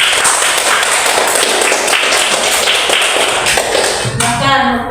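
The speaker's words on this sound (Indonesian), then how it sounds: "Oke, tepuk tangan untuk kelompok" Classroom audience applauding a student group after a presentation: dense, loud, steady clapping filling several seconds, thinning slightly near the end.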